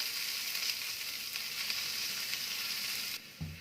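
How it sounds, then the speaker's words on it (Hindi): Steady close-up sizzling of onions frying in a pan over low gas heat, a continuous crackle with a brief clunk near the end. "प्याज को 1 मिनट भूनेंगे"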